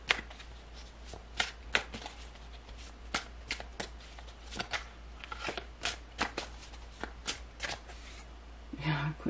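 A deck of tarot cards is shuffled close by in quick bursts of crisp riffling and flicking, a steady run of soft slaps with a pause near the end.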